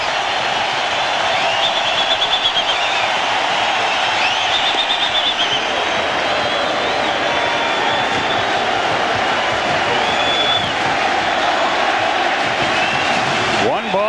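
Steady roar of a large baseball crowd at Yankee Stadium during a 2000 playoff game between Oakland and New York, a dense sustained wash of voices and cheering that stays loud and constant throughout, with occasional whistles rising above.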